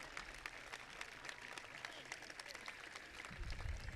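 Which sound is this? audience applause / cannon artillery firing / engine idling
audience applause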